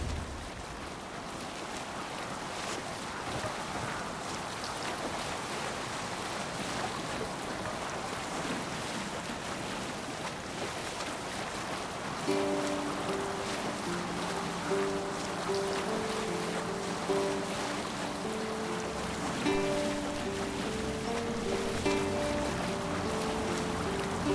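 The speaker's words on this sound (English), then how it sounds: "Need to row our way out." A boat rows out to sea in a video game, with a continuous wash of waves and gusting wind throughout. Soft music tones join midway under the rolling water.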